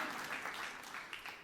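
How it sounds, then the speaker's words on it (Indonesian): Applause rises from a church congregation during a sermon, steady and moderately distant, with soft scattered claps blending into a continuous wash for a moment. "Tepuk tangan yang meriah untuk kemuliaan Tuhan."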